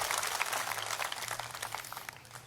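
A crowd at a farmers' protest rally in Chalisgaon claps to welcome Bachchu Kadu, a steady dense patter of applause that holds evenly throughout, heard from a moderate distance.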